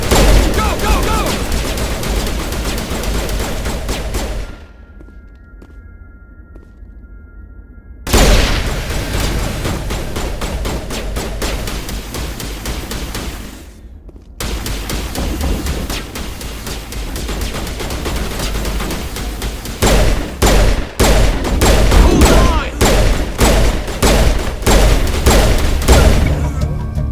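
Gunfire in the video game Mass Effect Legendary Edition: loud, dense sustained bursts of weapon fire with a brief lull, then rapid, punchy repeated shots near the end.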